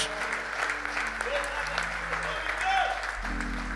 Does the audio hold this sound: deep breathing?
no